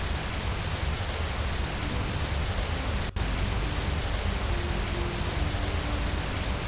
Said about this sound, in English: Waterfall is loud.